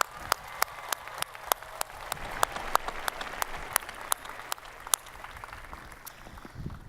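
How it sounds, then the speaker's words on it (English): A commencement crowd of graduates, friends and family applauds: steady, fairly soft clapping from a large audience, with sharp individual claps standing out in a loose rhythm throughout. "Let's give your friends and family, graduates, all a round of applause for everything they've done."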